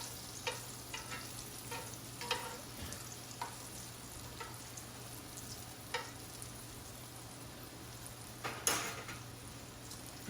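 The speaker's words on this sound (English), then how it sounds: "they've been frying for another 2 minutes" Panelle, Sicilian chickpea fritters, fry in a pan of hot oil with a faint, steady low sizzle and scattered soft pops and crackles throughout, alone without talk.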